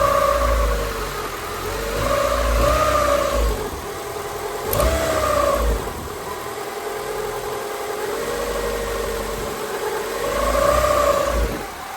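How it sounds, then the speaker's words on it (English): A Honda Civic EK hatchback engine revs up and settles back repeatedly, with a small click audible as the revs rise; the engine note is close and steady, with no talking. "Sounds like a little click when I rev it up."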